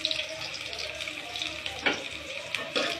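Sliced onion and dried red chili sizzling in hot oil in a wok over lowered heat, a steady soft crackle and hiss with occasional louder spatters.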